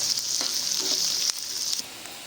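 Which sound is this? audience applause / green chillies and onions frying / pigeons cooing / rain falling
green chillies and onions frying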